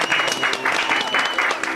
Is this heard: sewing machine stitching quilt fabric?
no